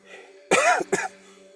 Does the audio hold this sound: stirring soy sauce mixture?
no